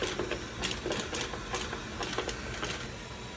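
A Dreame X40 Ultra robot vacuum mop runs in a shop, giving a continuous close mechanical whir laced with rapid ticking and clicking.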